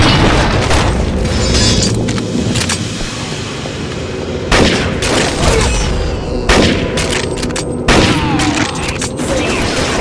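Loud, dense gunfire and heavy booming explosions from the video game Necrovision, with rapid shots and sharp blasts that recur every couple of seconds over a constant roaring battle din.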